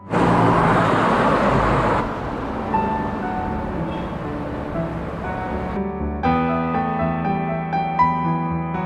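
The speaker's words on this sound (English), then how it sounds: "most people arrive at Upton-on-Severn by road, with a steady stream of cars passing through the town." Steady road traffic rolling through Upton-on-Severn, a small Worcestershire town, forms a continuous broadband wash of passing cars, loudest in the first two seconds and then settling into a lower, ongoing roar.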